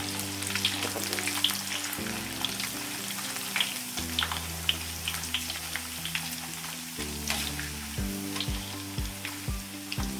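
Emping melinjo chips fry in hot oil with a continuous crackling sizzle, loud and close, while a background tune plays on and no one speaks.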